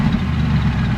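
Mercedes SLS AMG V8 grumbling at low speed while being loaded into a trailer, a steady deep rumble held close and loud for the whole moment with no talk over it.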